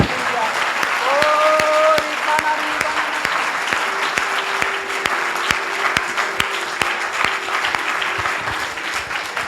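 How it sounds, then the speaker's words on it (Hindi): A church congregation at a worship service claps loudly in steady, sharp beats that repeat evenly across the clip, while a voice speaks and briefly calls out over the clapping. "ताली बजाए।"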